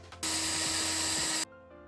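A small power drill bores a hole through a plastic IKEA trash can in one short, steady whining burst that starts and stops abruptly, close and alone.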